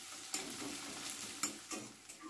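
Chopped onions sizzle in a pan of oil for a chickpea masala. A soft continuous crackle is broken by several sharp spatula knocks and stirring scrapes at irregular intervals.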